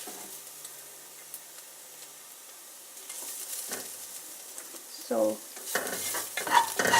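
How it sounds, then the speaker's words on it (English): Golden-brown onions sizzle softly in a pan, then a spoon stirs and scrapes them in louder bursts near the end. "My onions are getting brown golden, so I'm going to take half of them out."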